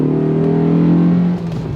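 A Honda Accord Euro R's K20 engine on a K24 block, with a light flywheel and an aftermarket intake, drones loudly at steady high revs, its tone shifting slightly near the end.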